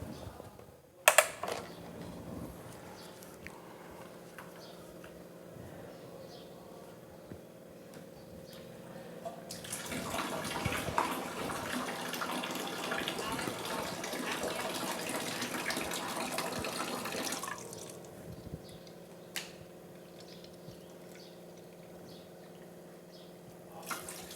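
Enagic Kangen alkaline water machine dispensing, a steady stream of running water that swells louder midway and then settles back, with a brief clack at the start.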